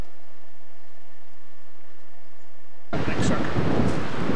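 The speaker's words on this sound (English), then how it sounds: "The wind is blowing and howling this morning." Strong morning wind blows at a riverside hunting camp in Northern BC, bursting in suddenly as a loud, rough, continuous roar that buffets the microphone after a few seconds of near quiet.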